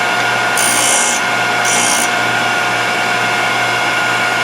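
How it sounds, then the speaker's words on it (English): Thorvie AV-40 sharpening machine grinding a router bit or shaper cutter to raise a burr: a steady, loud motor hum with a continuous abrasive hiss, plus two short bursts of sharper high grinding partway through. "We're going to grind it through so we get that burr."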